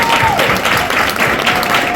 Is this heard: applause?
yes